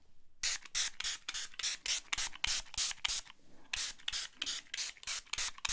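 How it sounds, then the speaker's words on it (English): A fine mist spray bottle fires a long series of quick, close, hissing bursts in a steady rhythm, with one brief pause midway. "especially with these fine mist spray heads. Oh, this is just heavenly."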